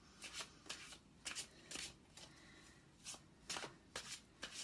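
Tarot cards are shuffled close up for a reading, giving soft riffling bursts that repeat in an uneven rhythm with short quiet gaps between them.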